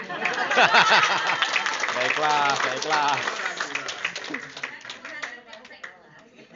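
An audience of school principals, teachers and supervisors claps at a speaker's prompt during an educational talk, a burst of clapping that tapers off, with voices and a speaking man over it.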